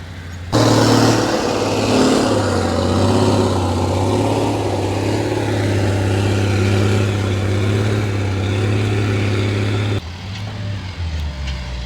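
A tractor engine runs loudly and steadily up close, a constant low drone holding for about ten seconds before easing to a lower rumble.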